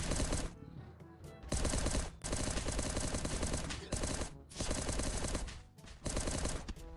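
Loud automatic gunfire in the zombie survival game Last Day on Earth, several long sustained bursts with brief gaps between them, alone without talk.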